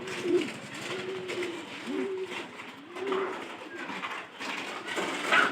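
Pigeons cooing at a village home, a steady series of low, rolling coos repeating about once a second, close and clear over faint background noise.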